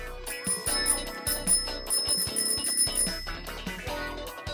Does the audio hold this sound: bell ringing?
yes